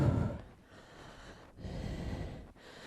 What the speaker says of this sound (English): big deep breaths in as much as you can